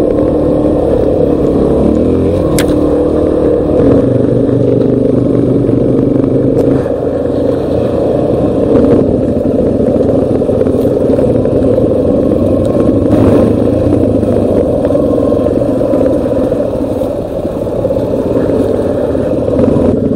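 A dirt bike engine drones loud and close while riding down into a rut, a steady throttled hum with small surges in pitch throughout.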